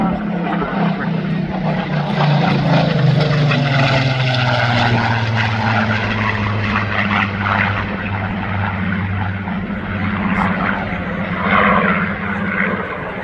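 A Supermarine Spitfire Mk XIX, a late-war propeller fighter with a 2,000-horsepower-class engine, flying at the Southport Airshow: a loud, sustained engine drone with shifting pitch as it passes, under a commentator's public-address voice.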